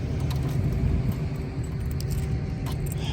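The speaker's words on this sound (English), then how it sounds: "So many keys." A bunch of keys for a 1966 Chevrolet Chevelle jangles and clinks in irregular light bursts close by, over a low rumbling background.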